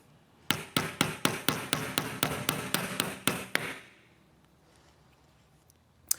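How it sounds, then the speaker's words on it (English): A hammer taps a dowel into a PF22.2 foam cannon sharply about a dozen times in a steady, even rhythm, close and loud, then stops, leaving quiet room tone and one final tap. "it might make sense to take out a wrench or a hammer or something and tap it in"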